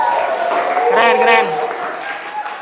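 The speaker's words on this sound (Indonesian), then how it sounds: "Tepuk tangan kanggo Bimo." Applause from a classroom group for a student named Bimo during a teacher-training session at Universitas Pendidikan Indonesia, a steady clatter of clapping running under a speaker's talk.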